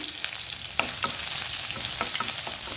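Half a cup of chopped onions sizzles loudly in hot oil for a ridge gourd and egg stir-fry, with occasional scraping taps of a spoon stirring the pan.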